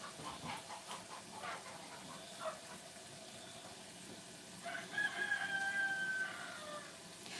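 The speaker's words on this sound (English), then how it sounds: "I ain't gonna keep counting how many times that rooster's gonna do that" A rooster crows in the distance over a steady background hiss, with some faint clucking and rustling nearby.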